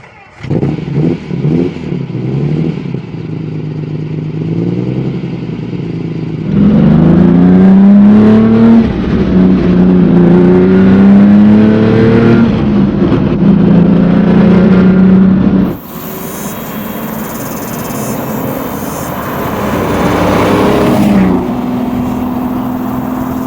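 A 1968 Lamborghini 400GT with a naturally aspirated V12 and Weber 40mm carburetors drives past loud and close, its engine rising and falling through gear changes and revs, with no voices.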